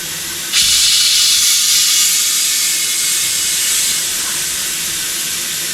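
A tire bead seater releases a sudden loud, continuous blast of air into old but unused 1997 tires, hissing steadily for about five seconds with no talk over it.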